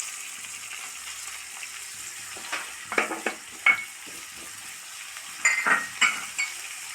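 Curry leaves, chopped garlic and dried red chillies fry in hot oil in a pan for a brinjal curry, with a soft steady sizzle and several sharp crackles and pops clustered toward the end, no talking.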